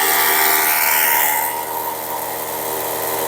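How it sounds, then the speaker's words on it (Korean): Two electric water pump motors drive a drip irrigation tape line in a pepper field, a loud, close, steady motor whine and hum that eases slightly partway through, with no talking. "모터 두 개가 동시에 작동하면 물 압력이 셉니다"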